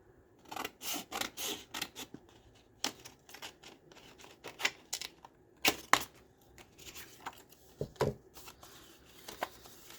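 Scissors snipping excess paper while assembling a handmade lapbook, a run of close, crisp cuts in irregular bursts with short pauses and rustling of paper between them, no talking.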